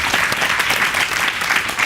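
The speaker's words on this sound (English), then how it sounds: "round of applause" Steady, dense applause from a crowd, loud and continuous throughout with no voices standing out.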